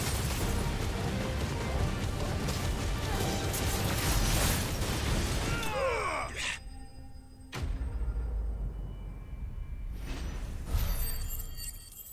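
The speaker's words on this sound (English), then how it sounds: "Breathe fire on his ass." Fire breath attack unleashed in Final Fantasy XVI, a loud sustained roaring blast that drops off abruptly, followed by sparser bursts and crackles.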